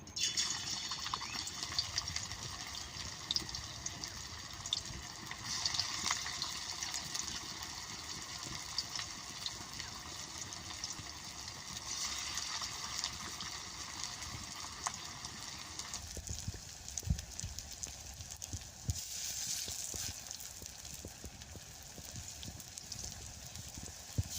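Gati flower fritters (bora) frying in hot oil make a steady, dense crackle and bubbling hiss that runs close and continuous throughout, swelling and thinning slightly as batter goes in.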